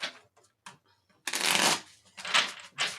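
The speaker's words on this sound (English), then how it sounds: "I'll give it a good shuffle here." A tarot deck is shuffled close up, with quick papery riffles and slapping card flutters in several bursts after a few soft handling taps.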